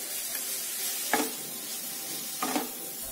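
Grated pumpkin roasting in a pan over low to medium heat, with a soft steady sizzle and two distinct scraping stirs of a spoon against the pan.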